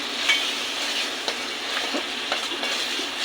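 Chicken curry with lemon juice being stirred in a pan, giving a continuous soft sizzle with scattered scraping stir strokes, close and fairly quiet, with no voices.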